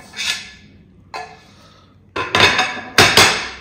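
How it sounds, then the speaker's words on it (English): Metal screws and parts of a HAYEAR 51MP digital video microscope base being handled and assembled, giving a few sharp clinks and taps in separate bursts, close and fairly loud, with quiet gaps between them. "we need to assemble the base with the screws"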